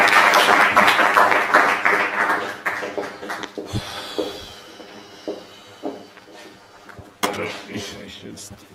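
An audience applauds to welcome a speaker at a Jesuit Institute talk on the Spiritual Exercises; the clapping is dense and fairly loud for about three seconds, then fades as a voice begins speaking.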